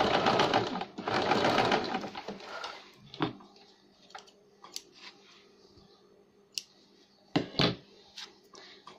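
A sewing machine stitching a baby cap runs in two close bursts over the first few seconds, followed by scattered clicks and fabric handling sounds.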